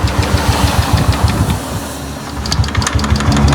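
A motorcycle engine cranks and sputters with a rapid, steady mechanical knocking, close and loud, revving unevenly without catching; the engine fails to start.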